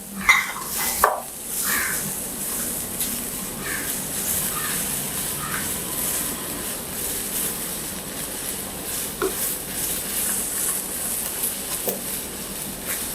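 Garlic and Kashmiri red chili sauté in a pan for Chettinad chicken curry, a steady hiss of frying with scattered clinks and scrapes of a stirring spoon, no talking.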